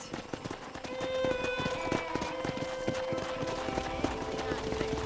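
Horse hooves clip-clop in a quick, steady rhythm in the video game Red Dead Redemption, with a tonal game-like hum and voices in the background.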